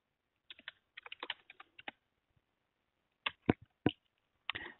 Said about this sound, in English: So I'll just set a password and then retype the password.